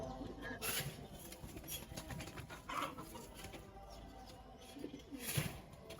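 Pet pigeons, including a white bird with a black neck, coo intermittently nearby, with other fowl clucking and scattered bursts of noise between the calls.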